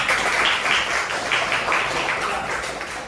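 A classroom full of people claps together, a steady patter of applause that holds evenly for a few seconds.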